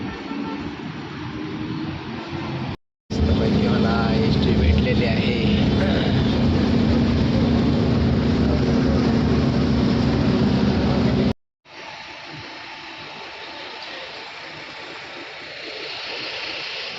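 An MSRTC state transport bus pulls up at a Maharashtra village stop, giving a heavy, steady engine rumble for about eight seconds between abrupt cuts. Quieter outdoor sound and some talking surround it.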